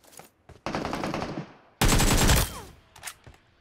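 Rapid automatic gunfire in a video game, two loud bursts of closely spaced shots with a short gap between them, followed by a few fainter scattered shots, with no talking.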